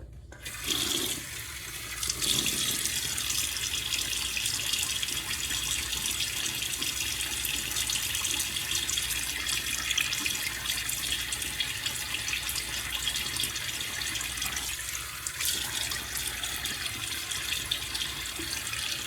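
A bathroom tap runs steadily as water wets the face before a shave, a continuous close splashing rush that stays loud and unbroken for nearly the whole stretch with no voices.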